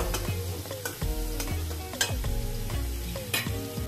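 Pepper powder and chili spices mixed in a bowl with leftover idli pieces, heard as a run of close, repeated clacking and scraping stir strokes at a brisk, uneven rhythm, with no voices.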